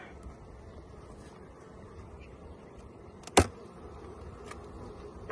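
Honey bees hum in an opened hive box during a hive inspection, a low, steady, faint drone that continues throughout, with one brief sharp knock partway through.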